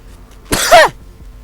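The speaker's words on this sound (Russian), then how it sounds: "Ребят, извиняюсь. За кашель приболел." A single sharp, loud cough from a man who is unwell, close to the microphone, a brief burst followed by quiet.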